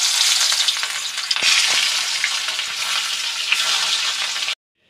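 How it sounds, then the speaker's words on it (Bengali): Rohu fish fries in mustard oil with a loud, dense, continuous crackling sizzle, close to the pan, which stops abruptly just before the end. "মাছগুলো উল্টে পাল্টে একদম লাল করে ভেজে নিয়েছি,"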